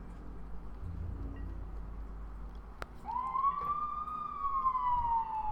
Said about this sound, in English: Ignore the loud sirens.